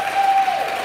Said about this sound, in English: there should definitely be a round of applause